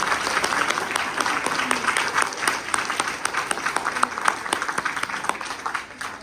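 An audience at a national research seminar claps in a steady round of moderately loud applause, with individual claps distinct, fading slightly toward the close.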